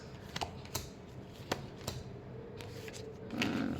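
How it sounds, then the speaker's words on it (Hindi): Tarot cards being shuffled by hand, a few sharp riffling snaps and soft slides close by, spaced irregularly with quiet between. "Last shuffle."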